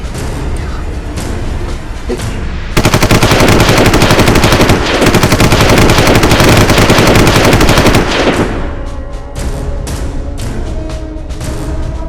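A long, rapid burst of automatic gunfire in a Nollywood movie scene, loud and continuous for several seconds, with scattered single shots crackling before and after amid background commotion.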